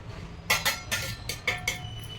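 A spoon mixing red chilli chutney with mustard and fenugreek powder clinks against a bowl several times in quick irregular strikes, close and clear over quiet background.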